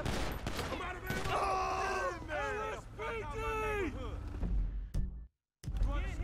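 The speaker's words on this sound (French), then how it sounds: "on se fait tirer dessus là" Gunfire erupts during a GTA 5 police patrol in a rough neighborhood, with bursts of shots over loud, continuous talking and music-like tones, then a brief dropout before the noise resumes.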